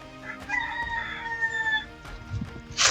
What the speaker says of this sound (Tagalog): May mga manok pa dito.